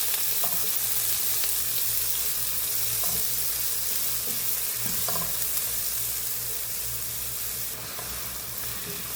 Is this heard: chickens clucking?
no